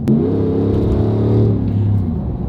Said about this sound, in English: My exhaust is always super loud on my truck.